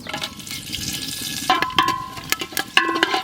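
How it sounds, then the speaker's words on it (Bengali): Whole garam masala spices tempering in hot oil in a pan, giving a close, crackling sizzle with scattered sharp pops and spits over a few seconds. "ওই তেলেই আমরা রান্না করব গোটা গরম মশলা ফোড়ন"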